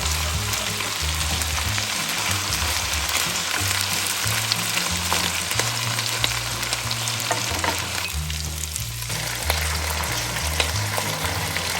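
Seafood and other ingredients for a Mexican molcajete dish fry in a pan with a steady, dense sizzle, accompanied by repeating low tones.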